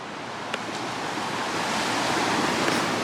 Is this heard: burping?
no